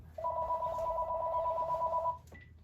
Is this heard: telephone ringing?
yes